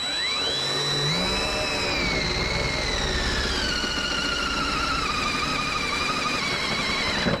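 A power drill whines steadily as the bit cuts into thin sheet metal on a third-generation Toyota Tacoma, a high squealing tone sliding slowly lower over a constant motor drone.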